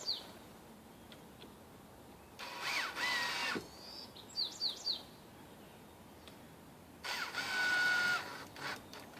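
A power drill drives screws into a plywood bay window frame in two loud whirring bursts of about a second each, separated by quiet, while birds chirp faintly outdoors.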